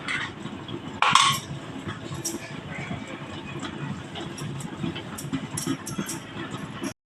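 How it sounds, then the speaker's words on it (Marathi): A spoon stirs a pumpkin buttermilk curry in a pot, making repeated soft clinks and scrapes against the metal, with one louder knock near the start. A low murmur may sit underneath. "आता हे ढवळून ढवळून उकळी आणायची की झाली भाजी तयार"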